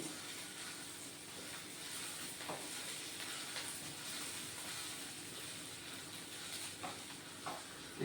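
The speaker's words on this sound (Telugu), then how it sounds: "వేగినాయండి ఉల్లిపాయలు" Sliced onions fry in a pan for an Andhra okra and lemon tamarind stew, giving a faint, steady sizzle and hiss with a few soft stirring scrapes throughout.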